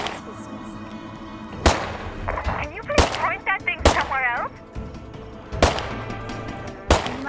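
Sharp, loud gunshots ring out one at a time at irregular intervals in State of Decay 2, about five in all, with someone talking between and over them.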